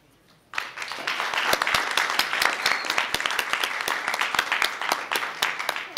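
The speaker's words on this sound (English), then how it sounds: "So I would like to ask great applause for Byron and also Gary." An audience at an APNIC conference policy session breaks into applause. After a brief quiet moment, steady, moderately close clapping from many hands continues for several seconds with individual claps audible.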